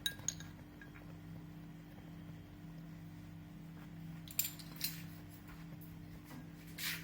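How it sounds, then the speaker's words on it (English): A spoon stirs coconut milk powder into a vegan coconut sauce with callaloo and spices in a pan. Faint scraping is broken by a few light metallic clinks at the start and near the end, over a low steady kitchen hum. "We're going to just stir this to dissolve all the coconut milk powder."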